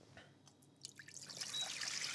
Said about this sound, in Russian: Вот, наливаю сюда воду.